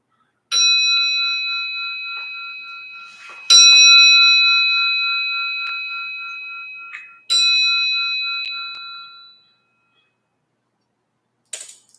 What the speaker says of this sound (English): Forgot to ring the bell to start